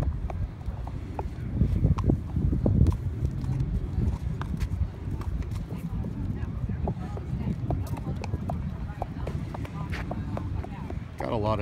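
A colt's hooves clip-clop steadily on the ground as the horse is walked down and back at a sale inspection, heard under wind noise and ongoing talk.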